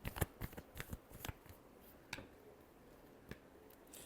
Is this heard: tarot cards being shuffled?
yes